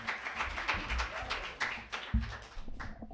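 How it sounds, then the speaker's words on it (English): A small audience at an open mic poetry evening claps in scattered bursts. The clapping is fairly quiet, with no voices over it. "Keep the applause going."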